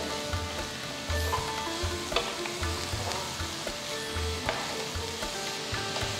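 Ridge gourd peel sautéing in a pan, a steady close sizzle and crackle running throughout with occasional scrapes and low knocks of stirring.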